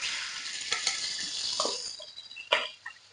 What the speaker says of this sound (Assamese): মাছখিনি প্ৰথমতে মই এনেকৈ ফ্ৰাই কৰি ল'ম।